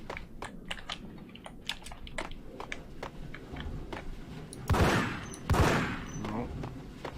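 Gunfire in the 2001 PC game Max Payne, with a steady patter of sharp clicks and pops and two louder, harsher blasts near the end.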